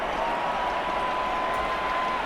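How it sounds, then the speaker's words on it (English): A home crowd applauds in the Madden 23 football video game during a Patriots versus Vikings matchup, a steady wash of clapping and crowd noise filling the short stretch, with a faint sustained tone running underneath. "And the home crowd applauding."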